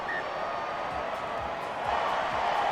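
A home stadium crowd in the Rugby Challenge 4 game, Crusaders against Samoa, reacting to a successful kick with a steady, broad roar that swells slightly toward the end.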